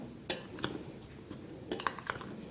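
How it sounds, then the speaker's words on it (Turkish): A spoon stirs a Black Sea cabbage soup mixture of cornmeal and water in a bowl, giving a few scattered metallic clinks and scrapes over quiet background, close and fairly faint. "Karıştıralım."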